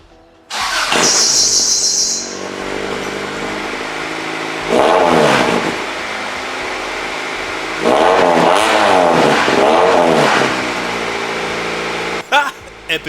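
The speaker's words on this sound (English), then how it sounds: "show off the nice and tasteful note of my exhaust for my Civic" A Honda Civic with an aftermarket exhaust starts up loud and close, then idles and is revved in several rising bursts, with a brief squeal near the start.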